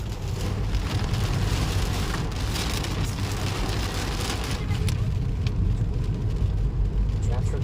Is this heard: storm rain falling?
yes